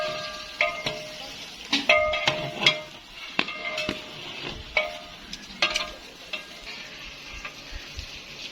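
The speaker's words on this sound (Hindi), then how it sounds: "तो अब घी गर्म हो चुका है, इसमें ये प्याज डालेंगे। ये प्याज डाल के उसको अच्छे से ब्राउन करेंगे।" Onions sizzle in hot ghee in a pot for a chicken chana pulao, a steady frying hiss broken by sharp scrapes and knocks of a spoon stirring against the metal, close and without speech.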